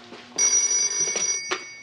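A telephone in a clinic hallway rings with a bright, loud electronic trill that starts abruptly and sounds in short bursts, alone and fairly close.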